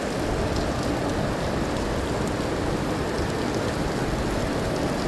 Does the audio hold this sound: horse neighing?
no